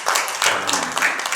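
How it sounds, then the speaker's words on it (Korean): Audience applause at an administrative case-study presentation, rising right after a talk ends: a short, dense wash of many hands clapping at steady loudness, filling the room with no voice on top. "박수 한번"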